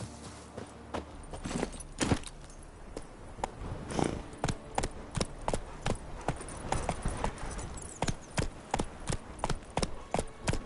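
Horse hooves clopping at a steady walking rhythm in The Witcher 3, a run of sharp, evenly spaced hoofbeats close up and fairly loud, with no talking over them.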